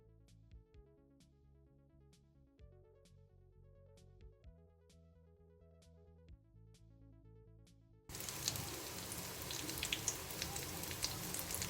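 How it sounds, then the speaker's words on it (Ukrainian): Zucchini slices in batter hit hot oil in a pan, bursting into loud, constant crackling and sizzling after a stretch of soft background music. "Смажимо кабачки в клярі."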